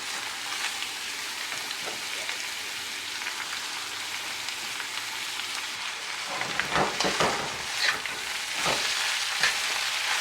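Bitter melon (carilie) fries in garlic oil in a pot over medium-high heat, giving a steady close sizzle; from about midway, bursts of stirring scrapes and louder crackles break in, with no voices.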